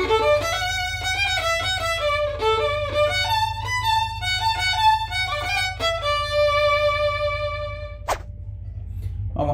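A violin plays the final stanza of a song, a lively run of bowed notes with quick changes, then longer held tones before a brief pause and a last short note, close and alone over faint background hum.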